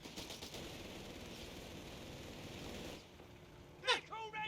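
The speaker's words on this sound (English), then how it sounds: "We got ourselves the Dingo opening fire, MG moving on up." Rapid, sustained machine-gun fire from a Dingo armored car and an MG team in the Company of Heroes 3 game, a dense rattling stream for three seconds that cuts off, followed by a short whistling whoosh.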